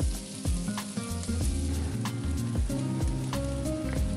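Beef liver and onion frying in a pan, a dense continuous sizzle with rhythmic spatula scrapes and clatters every half second or so, close and loud without talk.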